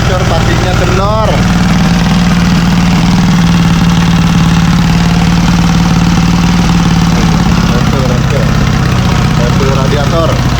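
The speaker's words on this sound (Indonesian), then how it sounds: "Knalpot bocor ya guys, knalpot bocor guys." A bored-up motorcycle engine with a leaking exhaust runs loud and close at a steady idle, giving a constant rough, rapid chatter throughout, while voices talk faintly over it.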